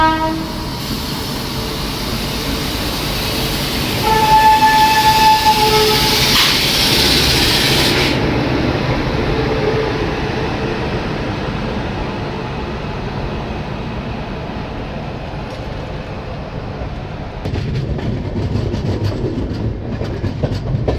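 An express train enters Mirzapur station in India around 6:30 in the morning, rumbling steadily with rail clatter, a brief horn-like tone sounding early on, and the noise continuing close by throughout.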